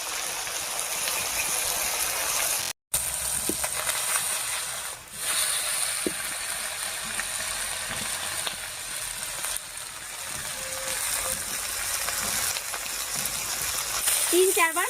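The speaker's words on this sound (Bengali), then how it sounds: "এবার পরের মাছগুলো কিন্তু ভাজা হয়ে যাবে" Small puti fish fry in a pan in a Bengali village kitchen, giving a continuous loud, hissing sizzle throughout with a few faint clinks of utensils.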